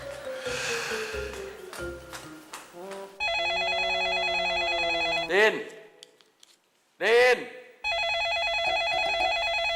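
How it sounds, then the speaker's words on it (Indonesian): A telephone rings in a house with a sustained electronic bell tone, heard in two long bursts, while people talk loudly and make exaggerated vocal noises between the rings. "Ada telepon tuh."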